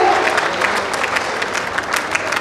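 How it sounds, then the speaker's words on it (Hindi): Dense applause from an audience welcoming a guest at an official ceremony in Mandsaur, a steady wash of many hands clapping at once, loud and continuous throughout. "जोरदार तालियों की गड़गड़ाहट आपके स्वागत के भाव को अतिथि तक पहुंचाती है"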